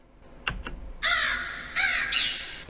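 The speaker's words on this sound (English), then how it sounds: "I added this crow sound," A crow caws loudly twice in drawn-out calls, preceded by a couple of sharp percussive clicks, close and clear, as a sound effect within a music beat.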